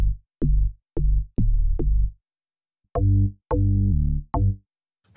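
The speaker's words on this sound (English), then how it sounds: "I'm going to be combining two synth basses from Logic using two different synths, the Retro Synth and the EFM1" Two synth basses from Logic, a Retro Synth patch and an EFM1 Dark Attack bass, played one after the other as short, deep, punchy notes in a sparse rhythm, close and clean, with no talk.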